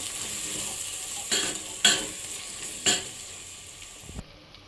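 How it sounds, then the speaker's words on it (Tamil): A spice mixture is stirred in a hot pan for a Palakkad-style chicken curry. A soft, continuous sizzle runs underneath, with three or four distinct scraping strokes of a utensil against the pan at irregular intervals. "இது நம்ம நல்லா மிக்ஸ் பண்ணி விடலாம்"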